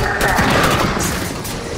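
Gunfire in Halo 5: Guardians, a loud, sustained burst of overlapping shots and impacts rattling through a firefight, with faint voices mixed in.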